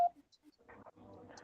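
A short telephone keypad tone sounds at the start of a direct call, then a ringing phone line carries faint, muffled voices as people talk over it.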